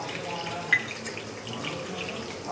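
Water poured into a pan holding cardamom pods, cinnamon and cloves makes a low, steady rushing wash. The sound stays fairly faint and even for a couple of seconds, with no speech.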